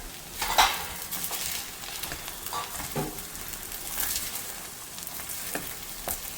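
A spoon turns and scrapes soft sabudana upma in a pan over a low flame, giving irregular clinks and scrapes against a gentle background sizzle, moderately close, with no talking.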